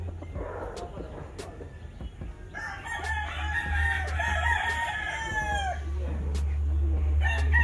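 A rooster of a rare blue-tinged breed crows loudly and close by in a long drawn-out call, with a few clucks and faint background chatter around it.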